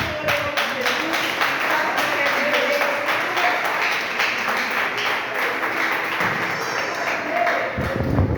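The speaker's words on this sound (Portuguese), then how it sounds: "Aplauda o Senhor em nome de Jesus." Steady, sustained applause from a church congregation fills the whole stretch, a dense wash of clapping with murmuring voices mixed in.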